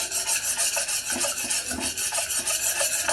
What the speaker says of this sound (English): I am just here stirring by the way